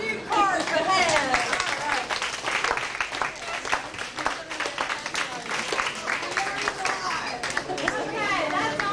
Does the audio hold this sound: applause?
yes